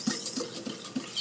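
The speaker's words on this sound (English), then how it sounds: "I mix with a whisk as well." Whisk mixing egg into cake batter in a bowl, soft rhythmic taps and scrapes about three times a second, close and quiet.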